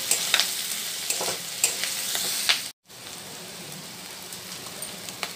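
Masala pasta being stirred in a pan, with a steady soft sizzle and scraping of the spoon that stops briefly midway, then carries on alone.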